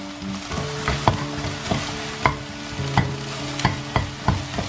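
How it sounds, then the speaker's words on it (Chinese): Eggs stir-frying in a wok with a spatula, a continuous close sizzle broken by roughly a dozen sharp scraping clicks at an uneven, unhurried pace. "再用铲子慢慢的把它搅动一下， 把鸡蛋我们炒的稍微弄一点"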